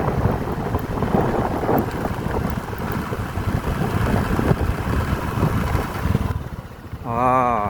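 Strong gusty wind buffets the microphone outdoors at a concrete road construction site in Laos as a storm approaches, a continuous roaring rush that eases briefly near the end as a voice speaks.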